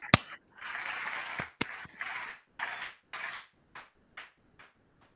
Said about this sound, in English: That's not a very good applause